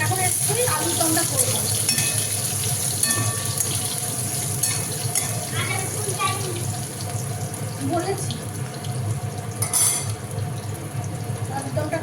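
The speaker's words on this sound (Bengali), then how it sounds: "মশলাটা আমার কষিয়ে দিয়েছি মশলাটা কষাচ্ছি" A spice paste for potato aloo dum sizzles steadily in a pan on a home kitchen stove, stirred with repeated scraping strokes over a continuous, fairly loud frying hiss.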